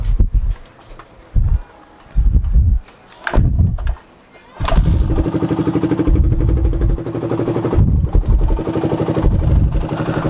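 A motorcycle engine being push-started with a low battery sputters in several short bursts, then catches and settles into a steady, close idle with a regular pulsing beat.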